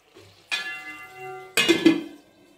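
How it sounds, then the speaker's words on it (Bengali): A lid set onto a cooking pot of jute-leaf curry after water has been added, giving two close metallic clatters with a ringing tone, the second louder with a couple of quick knocks, then fading. "এবার আমি ঢাকা দিয়ে দেবো"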